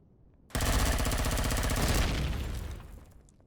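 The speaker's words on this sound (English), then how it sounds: "Kaboom is the sound of the core being annihilated." A reactor core is destroyed in Empyrion Galactic Survival with a sudden loud, crackling blast that roars for about two seconds and then fades out.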